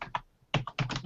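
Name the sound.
typing on a computer keyboard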